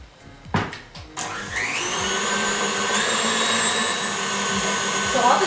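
An electric mixer whirs steadily through a chocolate tart filling, starting with a few clunks and knocks before settling into a loud, continuous high-pitched drone with no talking.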